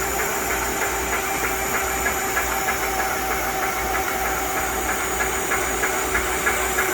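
A motorized honey extractor spins frames and puts out a steady, loud whirring drone with a hissing edge. The hum stays even throughout and no voices are heard.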